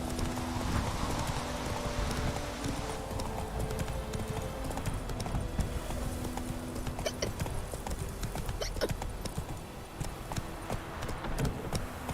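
Hooves of Roach, the horse in The Witcher 3, clip-clop in a steady galloping rhythm throughout, with a brief whinny and faint game ambience underneath.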